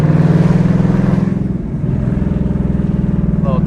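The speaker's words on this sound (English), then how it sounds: "Little downshift right here." Inside a Nissan 350Z HR, the engine rumbles steadily with a pulsing exhaust note, dipping briefly and then settling back into its drone, with a faint voice near the end.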